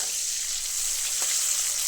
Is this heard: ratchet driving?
no